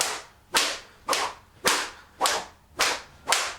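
A Cold Steel 35-inch sjambok lashes out six times at an even pace, each stroke a sharp, loud, close crack or slap with a quick fading tail, alone with no talk.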